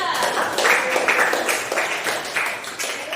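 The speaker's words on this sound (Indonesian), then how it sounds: "Oke, kasih tepuk tangan buat Afif, Pak." A burst of applause from a group, with steady clapping that swells and fades slightly over a few seconds, fairly loud and continuous.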